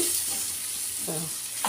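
Chili powder is stirred into a curry of field beans and brinjal frying in a pan, with soft scraping strokes over a steady low sizzle and no talking.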